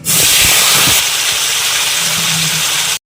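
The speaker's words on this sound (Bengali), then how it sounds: "বন্ধুরা মাছ ভাজা তেলে আমি আলুগুলো ভেজে নেব" Potatoes dropped into oil left from frying fish set off a loud, close, continuous sizzle and hiss that lasts about three seconds before cutting off.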